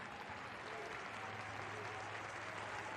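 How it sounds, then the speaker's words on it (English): A football stadium crowd at a J2 League match between Tokushima Vortis and Montedio Yamagata applauds a cross, a steady, fairly faint wash of clapping spread through the stands for a few seconds, with no talk over it. "Appreciated by the crowd."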